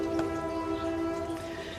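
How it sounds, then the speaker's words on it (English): A train passes in the background of a garden, its horn sounding a steady, sustained harmonic tone over low rumble, moderately loud and unbroken before easing slightly at the end. "I apologize for the train in the background."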